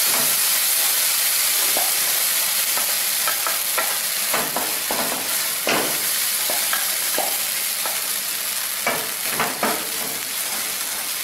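Chili powder sizzles loudly in hot oil in a pan while mango chutney is being made, giving a steady frying hiss broken by intermittent stirring scrapes.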